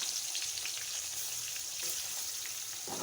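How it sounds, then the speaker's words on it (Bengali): Quiet, steady sizzle of pangas fish frying in hot oil, a soft crackling hiss with no talking. "কড়াইতে দিয়ে দিচ্ছি তেল, মাছটাকে এখন ভেজে নিব।"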